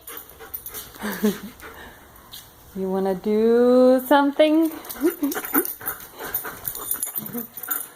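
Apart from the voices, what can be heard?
dog panting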